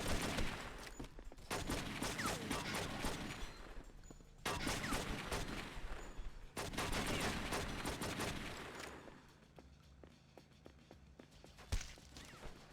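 Shotgun fire in the video game True Crime: New York City comes in dense, loud bursts of blasts for about nine seconds, then fades to a quieter stretch broken by a single heavy thud.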